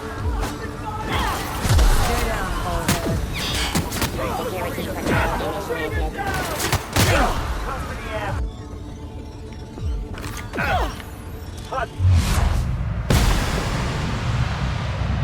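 Booming gunfire and explosions from fire support in the video game The Outer Worlds fill the scene with repeated heavy bursts and shots, while a voice talks over the combat.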